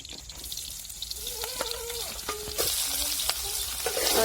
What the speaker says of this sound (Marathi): त्याच कढाईमध्ये मी आता थोडस तेल टाकून आणि मी थोडं जादा टाकणार आहे